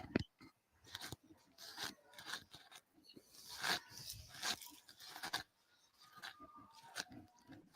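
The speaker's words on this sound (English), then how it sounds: "if you hear crunching, that's Mark over here trying to eat" A person crunches while eating close to the mic during a softball game broadcast, with quiet, irregular bursts of bites and chewing. Faint background noise sits underneath.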